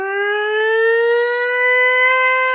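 A civil defense air raid siren winds up in a long, rising wail with steady, loud tones, sounding alone as the opening of a song.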